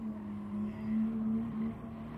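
A Porsche GT3 RS hums steadily around Laguna Seca in a racing game, a low, even engine drone that holds a constant pitch and rises slightly midway, with no talk.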